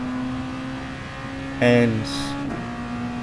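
Race car engine humming steadily mid-race on track, with a brief louder burst and pitch shift partway through, and a voice briefly speaking over it.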